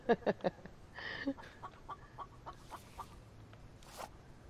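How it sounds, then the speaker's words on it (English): Short clucks from a chicken in the survival video game The Infected: a quick cluster of sharp bursts at the start, then lighter repeated ticks and a few brief calls, all fairly faint. "I think that's a chicken right there."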